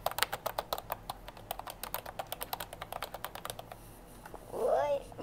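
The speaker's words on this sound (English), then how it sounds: "macam typewriter kan." Fast, steady key strikes on a newly unboxed typewriter-style keyboard, crisp and close, running for several seconds before a brief voice cuts in at the end.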